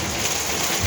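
Rain falling steadily outdoors, a dense, loud hiss of drops that fills the whole second without pauses.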